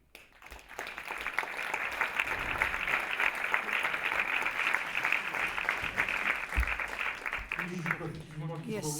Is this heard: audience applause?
yes